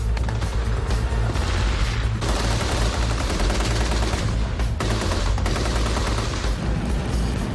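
An Abrams tank loader's 7.62mm machine gun fires in loud, sustained automatic bursts, with rapid shots and booming impacts almost unbroken throughout.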